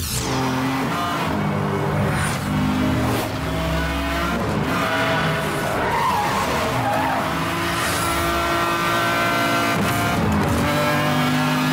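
McLaren F1 sliding in the racing game Need for Speed Hot Pursuit Remastered, with loud sustained tire squeal over a roaring engine, continuous and close.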